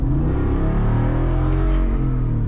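A 2021 Jeep Wrangler with the 6.4 HEMI V8 accelerating hard, its deep engine roar loud and sustained close by, with a rising whine near the end and no voices.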